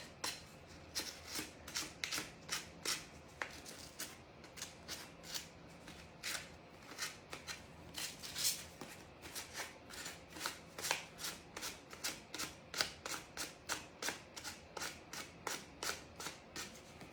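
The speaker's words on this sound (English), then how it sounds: "I'm just going to use this piece of sandpaper" Rapid, repeated scraping strokes of sandpaper on an edge, close and steady, with quick rhythmic bursts throughout and no talking.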